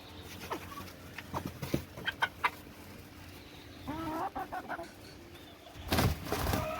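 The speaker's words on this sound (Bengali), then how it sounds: "বর্তমানে মোটামুটি হাই বাজেটের একটা মুরগি এই কর্নিশ ব্যান্থাম" Bantam chickens cluck in short, scattered bursts, fairly near, with a louder squawk toward the end.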